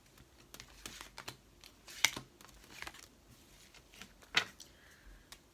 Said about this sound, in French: on recouvre ces cartes